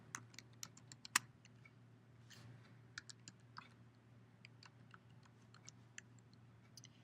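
Typing on a computer keyboard, a quiet, irregular patter of close key clicks over a low steady hum, with no talking.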